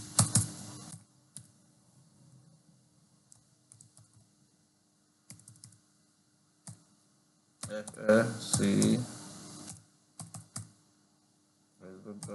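Someone types on a computer keyboard in scattered bursts of close clicking keystrokes, entering a web link, with a person speaking between and over the typing.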